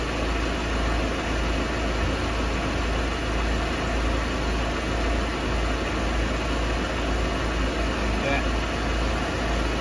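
A Subaru Legacy engine idles during a CVT fluid change, a steady continuous hum with a broad noisy hiss, even and unchanging at close range.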